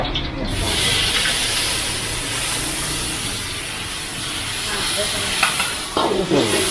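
A loud, steady sizzle and hiss as water hits a hot oiled wok during stir-frying of dried fish maw, continuing for several seconds, with a few clanks near the end.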